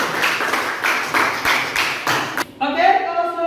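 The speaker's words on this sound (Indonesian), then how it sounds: "kali lagi tepuk tangan untuk kelompok 1" A small classroom group claps for presenting group 1 during a physics lesson on dynamic electricity, a few sharp rhythmic claps close by that cut off abruptly, followed by a voice speaking.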